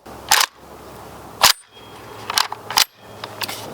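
Suppressed rifle firing 7.62x39 supersonic ammunition through an Exigent Defense Overwatch suppressor, outdoors: five sharp, close reports at irregular intervals, the last three in quicker succession, with quiet gaps between and no talking.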